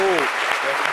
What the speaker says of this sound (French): je pense qu'on devrait encore vous applaudir pour ça. Bravo.